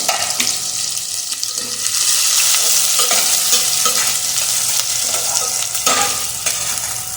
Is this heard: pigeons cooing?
no